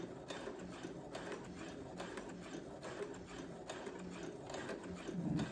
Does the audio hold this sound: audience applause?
no